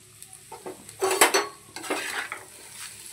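Cooked rice being stir-fried in a pan in a home kitchen, with a spatula scraping and clattering against the metal in uneven bursts over a light sizzle, close and fairly loud, with no talking.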